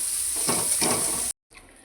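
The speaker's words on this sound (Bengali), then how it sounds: "সব মশলাকে একসাথে কষিয়ে নিচ্ছি।" Spices including Kashmiri chili powder sizzle as they are sautéed together in hot oil for a katla fish korma, a loud, steady close-up hiss that swells briefly as they are stirred, then cuts out abruptly.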